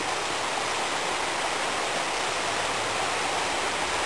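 River water rushes steadily through a valley on Réunion's Rivière des Pluies, a loud, continuous broadband wash close by with no talking.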